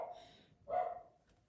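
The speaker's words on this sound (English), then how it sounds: "Why is my dog always barking when I'm talking with you guys?" A pet dog barks indoors during a morning study session at home, giving two short, fairly close yaps about half a second apart, with no talking over them.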